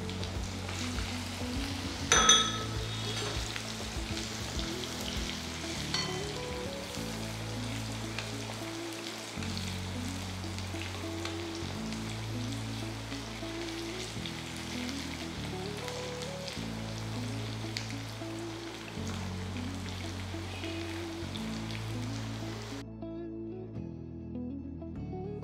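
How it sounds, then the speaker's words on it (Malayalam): Sliced red shallots frying in oil for Kerala sambar, a continuous close sizzle and crackle that holds steady throughout, with soft background music underneath. "നന്നായിട്ട് മൂപ്പിച്ചെടുക്കുക"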